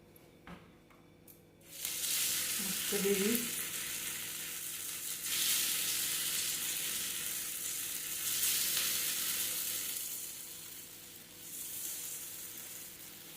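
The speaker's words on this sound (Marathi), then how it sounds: "आता ही कोथिंबीर वडी शॅलो फ्राय करून घेऊयात." Coriander kothimbir vadi pieces are set into hot oil for shallow frying; after a brief quiet start a strong, steady hiss erupts and holds, easing slightly in waves.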